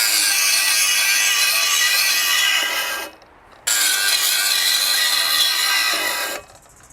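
A Milwaukee cordless angle grinder with trigger handle, rapid stop and variable speed, run on a 6 amp-hour battery, whines loudly at full speed, stops abruptly, then spins up again and winds down twice.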